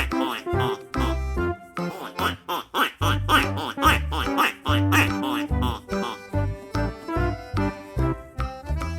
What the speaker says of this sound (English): quack quack sound